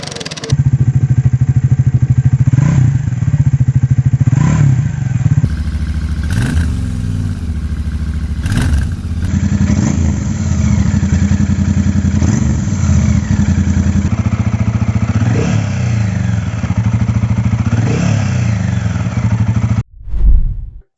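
Retro motorcycle engines, including a Royal Enfield 650 twin, a BSA Goldstar and a Triumph Speed 400, thump and rev through their exhausts in close, loud passes, with repeated throttle blips and rising and falling engine pitch, cut between takes.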